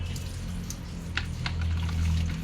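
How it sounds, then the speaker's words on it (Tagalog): Water is poured over the connections of a Solane LPG gas regulator to test for a leak, giving a soft trickle and a few faint splashes over a low background hum. "Lagyan namin ng tubig."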